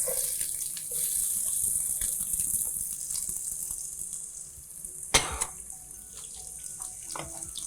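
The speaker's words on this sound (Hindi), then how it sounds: "प्याज को हम फ्राई करेंगे" Chopped onions frying in about four tablespoons of hot oil in a pan, giving a steady hiss and sizzle throughout with a few soft clinks and one sharp knock of a utensil midway.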